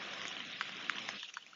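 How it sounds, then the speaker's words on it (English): Light rain falls by a lake at Hendrickson Park on a windless day, a faint, steady hiss with a few soft droplet taps, heard alone with no talking. "Something about the rain that's peaceful."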